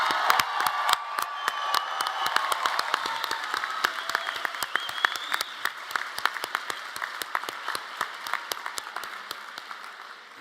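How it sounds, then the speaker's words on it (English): Applause for graduates at a college commencement ceremony, a steady crowd of clapping hands that holds for several seconds and slowly thins out, with scattered individual claps standing out near the end. "how about another round of applause for our graduates tonight?"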